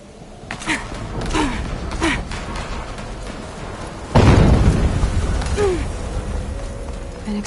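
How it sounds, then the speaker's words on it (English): Explosion in Horizon Zero Dawn, a sudden loud booming burst midway that decays into a rumbling tail, following quieter game ambience with sighs and small effort sounds. "An explosion."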